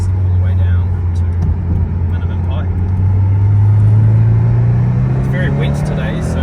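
A supercharged 2017 Subaru BRZ engine drones loudly and steadily from inside the cabin, its pitch climbing gradually under acceleration, with road and wind noise mixed in.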